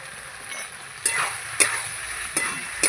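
Taro and potato sautéing with salt, chilli powder and spices in a pan, giving a steady sizzle broken by four sharp scraping stirs of the spoon.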